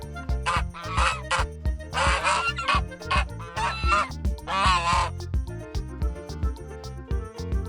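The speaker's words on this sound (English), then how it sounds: "Goose." Farm geese honk repeatedly in loud, nasal bursts, several calls overlapping in quick, irregular succession at close range.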